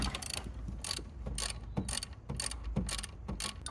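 A ratchet wrench working the charge wire nut on a Corvette battery, a close run of quick metallic clicking bursts repeating in short rhythmic strokes, loud and alone with no talking.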